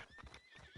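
A horse in the Red Dead Redemption 2 video game gives brief, faint hoof clip-clops and a soft whinny, heard alone in a short moment.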